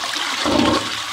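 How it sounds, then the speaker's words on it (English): A toilet flushes close up in a steady, loud rush of water lasting about a second, with no voices. "now I need to flush"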